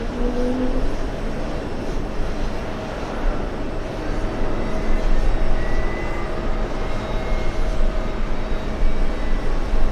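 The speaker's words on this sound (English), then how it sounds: "We have a couple of arrivals landing on the takeoff runway." A jet airliner landing at JFK airport in summer heat, a steady broad engine roar with low rumble holding throughout, fairly loud and continuous, with no talk over it.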